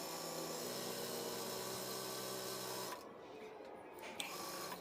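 A sewing machine stitches a men's kurta with a steady mechanical whir for about three seconds, then stops, leaving quieter room noise with a small click.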